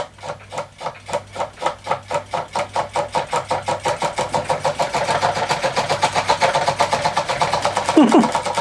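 A restored half-beam electromagnet engine runs close and loud, its rhythmic mechanical pulses speeding up steadily into a fast, even chatter.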